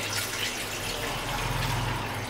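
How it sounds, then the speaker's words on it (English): One cup of water pours steadily into a pot for cardamom tea, a continuous splashing, gurgling stream at close range with no pauses. "We'll add 1 cup of water."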